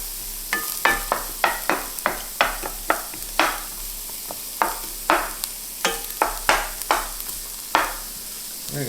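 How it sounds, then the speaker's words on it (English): Onions are stirred and browned in a pan for keto chicken adobo: repeated sharp scraping strokes of a utensil at a steady rhythm over a soft, continuous sizzle, close and clear with no talk. "we're going to just stir that up, and we're going to brown this up good"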